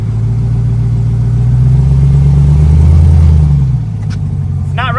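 Lifted Ram TRX pickup on 40-inch mud-terrain tires with its engine running while reversing: a steady, loud low rumble that swells slightly midway, then eases, ending with a brief faint squeak.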